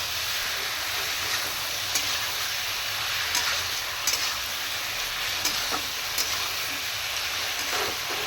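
A paste of cumin, ginger, green chili and garlic frying in oil, giving a continuous close hiss and sizzle with occasional light spatula taps, no voices.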